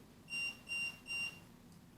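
A ghost-hunting device in an old farm beeps three times in a regular rhythm, each beep a clear, moderately loud electronic tone over a quiet background, without talk.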